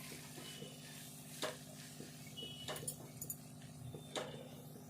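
A spoon scrapes and clinks in a pan while ginger-garlic paste is mixed into a Telangana peanut curry, soft frying sizzle underneath and a few sharp knocks against the metal.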